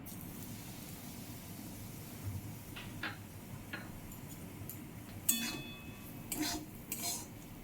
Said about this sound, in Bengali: সুজিটাকে ভালো করে ভেজে নিতে হবে